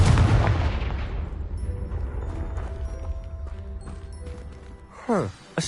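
Confringo explosion spell from the Hogwarts Legacy video game blasting apart a pile of debris: a loud, deep boom at the start that rumbles and fades over several seconds, followed by a short sweeping whoosh near the end.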